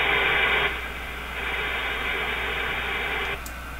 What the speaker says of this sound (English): Just a hiss.